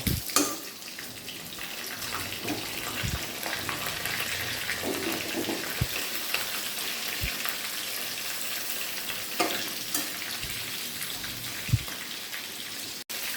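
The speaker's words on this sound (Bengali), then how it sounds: "আমার সাইড ভাজে নেব" Hilsa fish pieces fry on their second side in hot oil, a steady close crackling sizzle broken by several sharp knocks and scrapes of a spatula against the pan, no voices.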